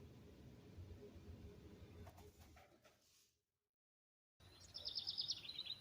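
Wild birds chirp and call outdoors on a fine day near a garden with bird baths, steady ambient noise first, a brief silent gap, then brighter, louder twittering near the end.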